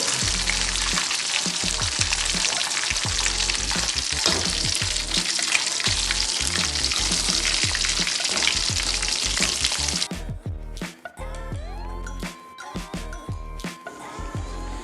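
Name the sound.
fried chicken being scooped out of hot oil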